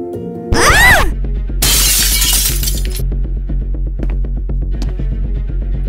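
A drinking glass drops and shatters at a masquerade ball in a mansion, a loud sharp crash followed by a burst of scattering shards, with a low musical hum continuing underneath afterward.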